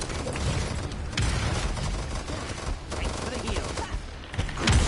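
Sustained gunfire from the Paladins hero shooter on PS4: dense, continuous volleys of shots and booms run throughout, loud and busy, with in-game voice lines mixed in.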